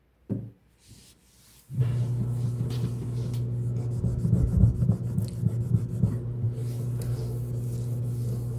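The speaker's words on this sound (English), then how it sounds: "I'm going to make sure everything is sprayed, and then I'm just going to wipe" A kitchen sink is scrubbed and wiped with a rag after spraying cleaner, giving a steady close rubbing and scraping that runs continuously after a couple of brief opening sounds, with no talking.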